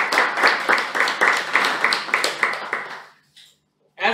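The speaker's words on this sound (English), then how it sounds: "I would like to ask you all to give them a big round of applause" Club meeting audience giving a round of applause to new members, dense steady clapping that pulses for about three seconds, then cuts to silence before a brief sound resumes at the end.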